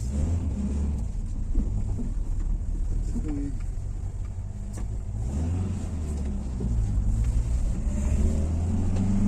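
A 1984 Fiat 125p's engine drones loudly from inside the moving car, its pitch rising and falling through gear changes over a steady road rumble, with voices faintly underneath.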